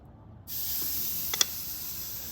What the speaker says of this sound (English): Let's give it just a little bit of a sear